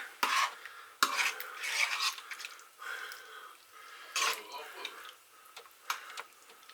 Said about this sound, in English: I'll stir that in and then have a taste.